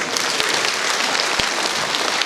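Concert audience in Truskavets greets a performer's sister on stage with loud, dense applause, a continuous wash of many clapping hands from start to end.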